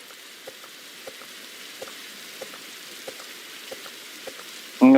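Rain falling in a video game, a steady close wash of patter and hiss with faint regular ticks spaced about every half second, carrying on alone without talk.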